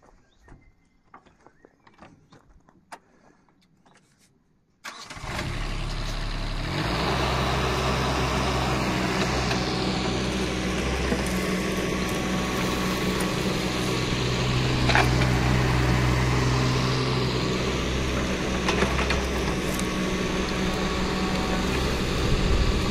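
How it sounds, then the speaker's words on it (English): A JCB 16C-1 1.7-ton mini digger digging mud, its engine roaring loud and steady close by after a few seconds of quieter clatter, with hydraulic strain and scraping under the drone. "I'll quickly show you how this digs and how quickly it moves a lot of mud."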